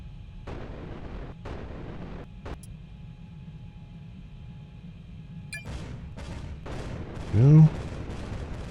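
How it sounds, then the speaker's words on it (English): Enemy ships firing in the space game Capital Command: separate, booming blasts at irregular intervals over a low rumble, then a brief louder burst near the end. "Oh, you guys firing on us too."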